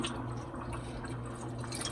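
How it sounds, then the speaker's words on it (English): About half a cup of water pours into a pot of minced beef set to boil, a soft continuous trickling and splashing, fairly quiet and close. "I'm going to add like about half cup of water to this pot"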